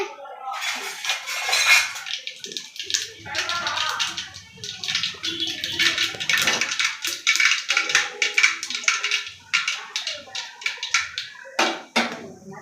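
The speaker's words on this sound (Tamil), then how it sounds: "எண்ணெய் சூடாயிடுச்சு கடுகு சேர்த்திக்கலாம் கடுகு பொரியட்டும்" Mustard seeds popping in hot oil for a South Indian mixed-rice dish, a dense run of sharp crackles and spits, close and fairly loud, with scattered clinks of a pan and faint talk beneath.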